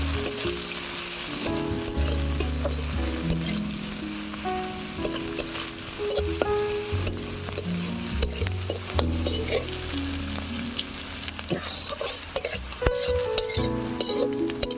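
Green chillies and chopped onion fry together in a pan with steady loud sizzling and frequent scraping stirs throughout, no voices.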